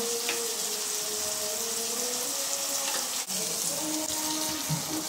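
Ginger and garlic paste frying with onion in a pan for a chicken, bottle gourd and potato curry, giving a steady, fairly loud hiss and sizzle with a few faint stirring touches, with no talk.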